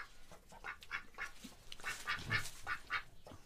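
Ducks on a springtime farmyard homestead quack repeatedly in an uneven, overlapping chorus, close and fairly loud, with no talking.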